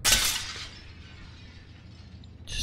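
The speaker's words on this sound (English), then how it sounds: "Stepping on glass." Glass breaking underfoot in the video game Prey (2017), a sharp bright shatter at the start that fades into a soft tail, with a second brief crunch at the end.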